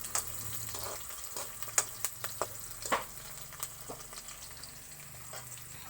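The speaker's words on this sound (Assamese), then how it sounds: "প্ৰথমতে গৰম তেলত দিম জলকীয়া" Green chillies and onion fry in hot oil for a kosu bao curry, giving a faint, steady sizzle with scattered crackles and pops.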